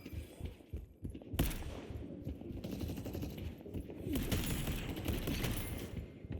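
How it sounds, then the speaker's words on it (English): Wraith's gun firing in a game, a fast rattling burst of shots repeated in several rapid volleys over busy game ambience, moderately loud and close. "her gun also really isn't bad."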